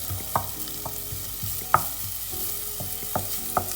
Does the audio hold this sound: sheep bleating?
no